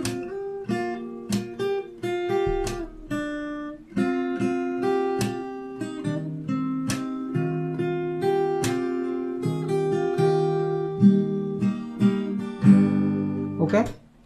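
Fingerstyle acoustic guitar plays the next part of a song, plucked melody notes over sustained bass tones, close and clear, with a few louder struck chords near the end.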